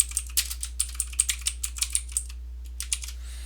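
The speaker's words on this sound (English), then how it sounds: "we'll just type Merry Christmas" Typing on a computer keyboard while entering text in a word-processing document: a close, crisp run of roughly twenty keystroke clicks at a quick, slightly uneven rhythm, with a short pause near the end and no talking.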